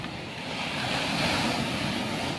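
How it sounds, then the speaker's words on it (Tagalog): Steady rush of ocean surf washing onto a beach in Siargao, a continuous broadband roar with some wind noise, no voices. "Tingin-tingin sa alon."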